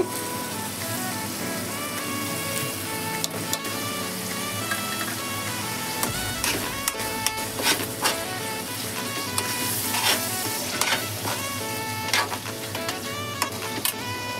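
Curd hits a hot pan and sizzles steadily, with scattered clicks and scrapes of stirring over a continuous hiss.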